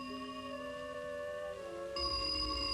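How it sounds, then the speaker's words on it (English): An old telephone in a 1958 film rings with a sustained tonal bell, its tone shifting and growing louder partway through, with no talk over it. "Phone's ringing."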